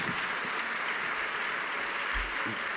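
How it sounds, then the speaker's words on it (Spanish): Audience applause welcoming two guests at a cultural event of a Bolivian Diablada association, a steady wash of clapping throughout, moderately distant and fairly soft, with a brief low thump near the end. "un aplauso para ellos"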